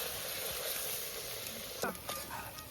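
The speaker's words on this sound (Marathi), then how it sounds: "त्याला पण मस्त फ्राय होऊ देऊ हलवून घेऊ त्याला थोडं" Close, steady sizzling of a homemade ground masala paste frying in a pan, with a couple of scraping stir strokes near the end.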